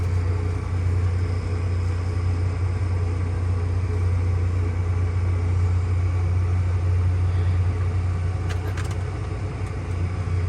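Tractor pulling a grain cart during corn and soybean harvest, a loud, steady engine drone and low rumble heard up close from the cab throughout, with no talk.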